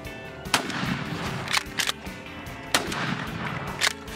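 Shotgun blasts fired at a turkey during a muddy outdoor hunt, several sharp loud reports spaced across a few seconds, some doubled, with no talking.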